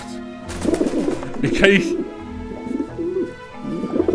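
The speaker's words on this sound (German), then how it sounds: "anscheinend mögen die Tauben diesen Abluftschacht" Pigeons coo at an exhaust vent on a rooftop in the game Grim Fandango Remastered. The soft, repeated coos sit under someone talking.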